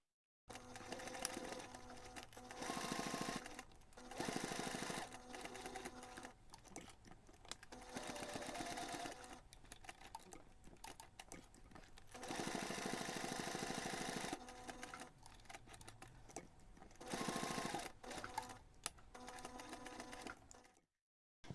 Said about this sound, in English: Then you can take this to the machine and simply sew a box around all sides, about 2 millimeters from the edge.